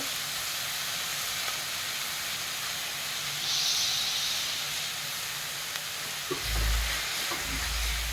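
Chakvat leafy greens cooking in a pan give a steady, soft hiss and sizzle, with a few low thumps and a louder burst toward the end.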